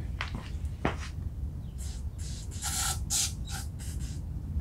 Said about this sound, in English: I'll spray some more fluid.